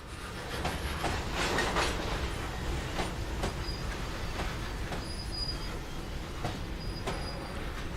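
A Rio Grande train in Train Simulator pushes a caboose, rolling steadily with rhythmic clickety-clack over rail joints, a constant low rumble and faint high squeals from the wheels.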